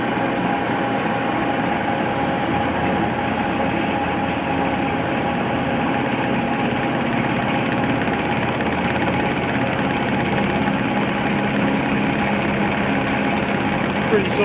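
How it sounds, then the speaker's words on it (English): A lathe faces off soft aluminum on a drive hub with an interrupted cut through the wheel stud holes, giving a steady, close mechanical hum and rumble that runs unbroken throughout. "I got my drive hub chucked up in the lathe, and I'm going to face off 250 thou."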